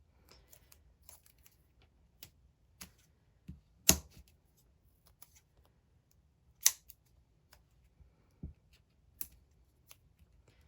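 Spellbinders craft scissors snip paper in a quiet room, a sparse series of sharp, crisp clicks and cuts at irregular intervals, close and alone without talk.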